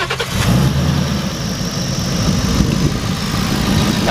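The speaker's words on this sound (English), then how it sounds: "We'll go ahead and fire it up for you." A 2018 Ford Mustang GT Roush Stage 3 with cold air intake cranks and catches, then settles into a loud, deep, steady V8 idle close by.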